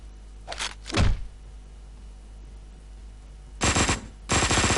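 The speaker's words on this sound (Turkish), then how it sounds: "Uzi güzel. Heh, taradım herkesi." Uzi submachine gun fire in the video game Hotline Miami 2: two short early bursts, then two louder rapid bursts near the end, separated by a quiet low hum.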